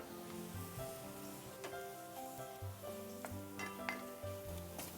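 A spice paste of onion and coconut frying in a pan for fish and mango curry, a steady close sizzle with occasional light clinks and stirring scrapes, no voices.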